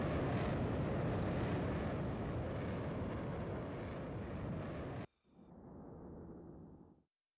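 A New Zealand Hornet fighter jet finishing an airshow display, a loud, broad roar that cuts off abruptly, followed by a fainter, duller rumble that fades out.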